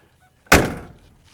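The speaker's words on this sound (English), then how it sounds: "You can see the doors shut nice" The door of a 1963 Chevrolet Corvair Monza 900 shuts once with a close, solid thunk, followed by a short decay and then quiet.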